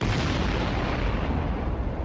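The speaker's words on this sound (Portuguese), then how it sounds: "Centenas de explosões controladas." Controlled blasting to divert the river during construction of the Itaipu dam, a dense, continuous roar of rumbling explosions filling the whole stretch with no clear gaps.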